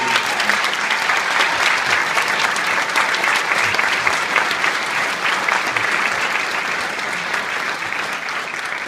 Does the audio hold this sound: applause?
yes